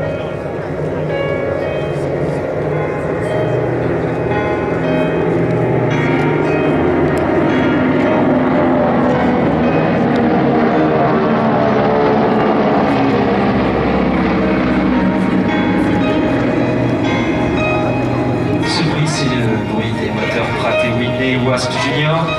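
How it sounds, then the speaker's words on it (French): A Beechcraft 18 twin-engine propeller transport plane, powered by Wasp Junior engines, flies past at an air show, its sustained droning roar swelling and shifting in pitch, with a commentator talking over it. "le Beechcraft 18."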